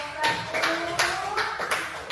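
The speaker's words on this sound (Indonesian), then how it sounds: "Tepuk tangan untuk kelompok 1" Classroom of students clapping for a group, a few rhythmic bursts of hand claps roughly every half second, fairly close, with faint voices in the background.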